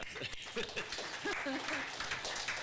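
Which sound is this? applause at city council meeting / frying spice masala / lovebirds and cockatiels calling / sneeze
applause at city council meeting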